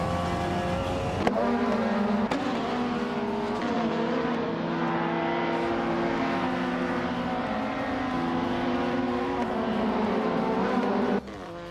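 Racing cars, including WTCC and TCA touring cars, scream around a track with continuous high engine whine, shifting pitch through gear changes and revs, loud and sustained for the whole stretch.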